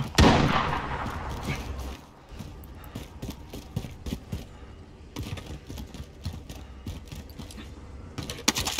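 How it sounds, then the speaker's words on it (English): Sniper gunfire in an online shooter game, a loud sharp shot at the start followed by scattered cracks, mechanical clicks and rattling action noises through a busy game soundscape. "Someone is sniping at me."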